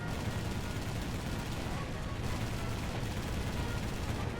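War Thunder gunfire, a dense continuous rattle of shots and booms blending into steady battle noise at moderate loudness.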